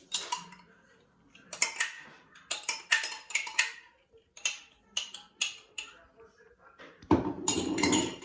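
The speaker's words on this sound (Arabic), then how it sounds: "بعد ما ضفنا الزيت غادي دابا نضيفو الحليب شويه ونبداو نخلطو" Batter being whisked in a bowl after oil and milk are added: a run of quick clinking, ticking utensil strikes against the dish in short bursts, close and fairly quiet, ending in a louder scraping stir.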